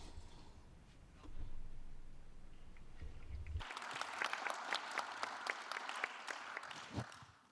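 An audience at a sustainable landscapes finance panel breaks into applause after a stretch of quiet room tone, a dense steady clapping that starts abruptly and continues to the end.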